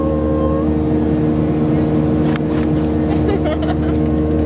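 Steady engine drone of motorboats close by on the water in Panama, a constant low rumble with wind and some faint voices underneath.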